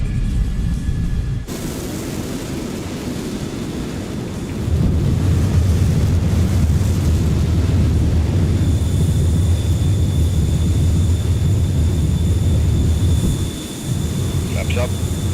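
An F-14 Tomcat jet rotates and climbs on takeoff in Microsoft Flight Simulator, with a continuous loud engine roar that swells partway through and holds steady, dipping briefly near the end.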